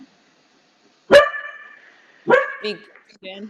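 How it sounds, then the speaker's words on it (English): A dog barks twice during an indoor Reformer Pilates class, each short bark sharp and fairly close, with an instructor's voice speaking briefly around them. "That's the dog, obviously."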